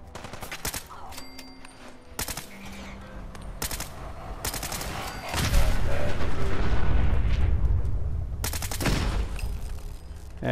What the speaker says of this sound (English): Take him out with that gas rifle.